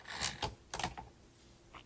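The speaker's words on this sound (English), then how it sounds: "And it feels different when you're typing." Faint typing on a 1946 Smith Corona Silent Speedline typewriter, a few soft, irregular key strikes close by, followed by a quiet gap and a final tap.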